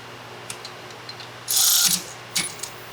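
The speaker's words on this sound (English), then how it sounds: "Right there I'm using a Milwaukee 3/8 drive fuel ratchet." A Milwaukee 3/8-inch drive cordless Fuel ratchet working on a 2015 Silverado 6.6 Duramax diesel air intake heater, a loud half-second mechanical ratcheting whir after soft clicks, then a brief second burst, up close.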